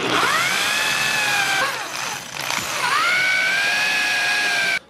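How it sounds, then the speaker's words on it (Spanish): A power drill bores a hole into wood while building a rustic floating table, its motor whining high and close in two sustained runs with a brief slowdown between, then cutting off abruptly. "Antes de perforar, calcule bien su profundidad porque no queremos atravesar toda la madera."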